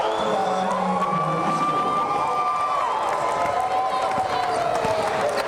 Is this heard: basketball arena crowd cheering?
yes